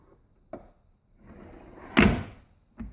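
A hidden compartment in an oak shelf is pushed shut and its magnetic latch catches, a soft knock, a sliding rub, then a firmer wooden thunk and one last light tap, close by in a quiet room.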